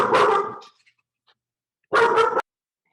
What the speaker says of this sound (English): apologize for any barking in this video